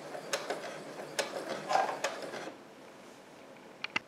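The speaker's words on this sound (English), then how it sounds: "I pinned the zipper in place, and I'll remove the pin when I get to it with the sewing machine" A sewing machine stitches a zipper into a crocheted Great Dane dog project, giving several short mechanical clatters and ratchet-like bursts in the first half, then a quieter stretch and a couple of sharp clicks near the end.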